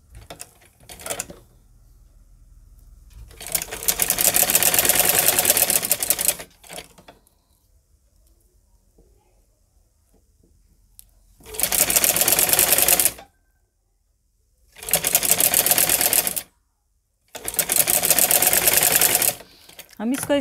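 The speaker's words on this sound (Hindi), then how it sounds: "यहाँ पर हम सिलाई लगा लेंगे।" Sewing machine stitching golden lace onto the edge of fabric for a tassel, running in three or four loud sustained bursts separated by pauses, with brief quiet stretches between runs.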